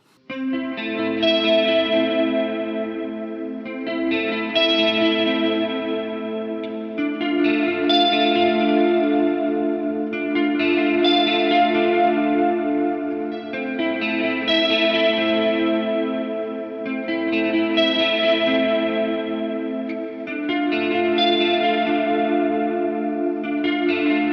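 A distorted electric guitar plays repeated chords through a budget Marshall-style pedal and chorus-like effects pedals, each strum ringing out in a steady rhythmic pattern, loud and alone.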